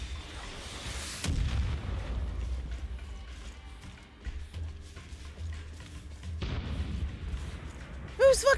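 Gunfire and heavy explosive blasts in the video game Far Cry 5 come as booming, rumbling bursts with scattered sharp shots, loud and close.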